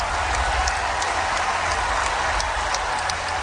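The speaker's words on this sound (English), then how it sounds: "She telling us don't clap for that" Crowd applause at a women's college basketball game between South Carolina and Ole Miss after a diving defensive play, a steady dense wash of clapping and cheering filling the arena at a constant level.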